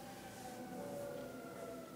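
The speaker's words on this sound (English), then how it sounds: "Sorry about the sirens in the background." A siren wails faintly in the distance, a steady tonal whine over low background rumble.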